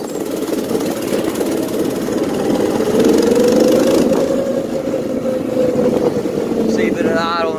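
A newly built vehicle on brand new tires runs its engine at a loud, steady idle. The rumble holds close and constant with a slight rising then falling pitch, and a brief voice cuts in at the end.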